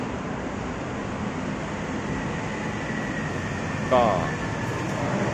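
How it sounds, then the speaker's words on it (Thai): An elevated MRT metro train at Phetkasem 48 station in Bangkok gives a steady, loud rumble and hum on the platform, with a short squeal partway through and a brief spoken word. "เนี่ยผมอยู่บนสถานี MRT เออสถานีเพชรเกษม 48"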